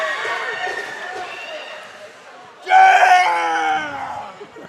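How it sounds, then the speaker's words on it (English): A hockey arena crowd roars and yells during on-ice fights, a steady loud din that drops briefly then surges into a louder burst of cheering, with a commentator talking over it. "The crowd loves to see this."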